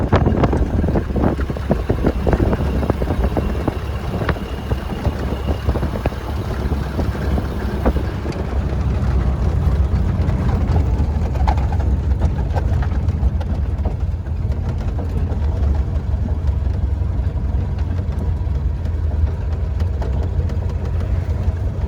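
A 1931 Ford Model A pickup climbs a hill in third gear, a steady low engine drone with heavy rumble and wind buffeting, continuous and close, with no voices.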